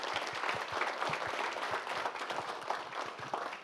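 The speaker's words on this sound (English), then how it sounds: "fantastic applause to the panelists" An audience applauds the panelists at the close of a finance forum session, a dense steady wash of many hands clapping at once, fairly distant and even throughout.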